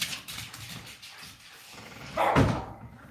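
A dog, excited and climbing onto a bench indoors, gives a single short bark near the end, fairly close and moderately loud after some low rustling movement.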